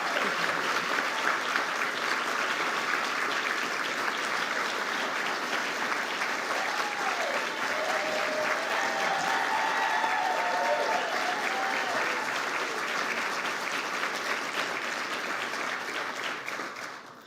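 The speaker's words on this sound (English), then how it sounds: "Let's give them a well-deserved round of applause" Sustained audience applause honoring nine North Carolina teacher finalists at a Teacher of the Year ceremony, a dense, steady wash of many hands clapping for about seventeen seconds, with faint voices and a brief cheer mixed in before it tapers off.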